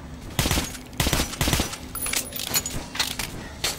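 Rapid bursts of gunfire from a weapon in the first-person shooter Metro Last Light crack out in several sharp volleys, close and loud, with scattered single shots trailing after and no one talking.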